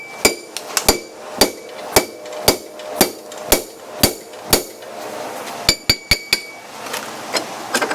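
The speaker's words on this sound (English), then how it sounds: "Let's bash this unit with a hammer." A hammer strikes a brake unit in a series of sharp metallic bangs, about a dozen evenly spaced blows ringing close and loud, then a quick flurry of hits near the end.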